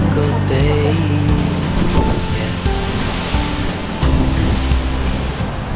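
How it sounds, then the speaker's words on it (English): Waterfall in Lauterbrunnen plummeting over rocks, a loud, dense, continuous rushing roar of crashing water close by, with no talk. "that waterfall is plummeting over the rocks"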